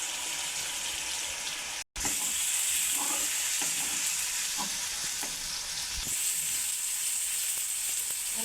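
Onion, tomato and turmeric fry in a pan for stuffed kantola (teasel gourd) curry. A steady, close hiss of sizzling oil runs throughout, broken only by a brief gap, with faint scraping stirs and no voices.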